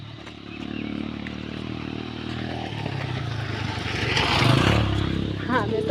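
A motorcycle runs along a road with a steady low engine drone that swells as it draws nearer, heard under people talking nearby.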